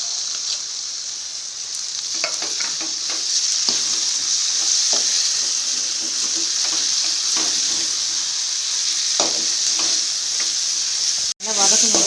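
Ground masala for mutton chukka sautés in a pan: a steady, loud sizzle with intermittent spoon scrapes and stirs, and a brief drop near the end before the frying resumes.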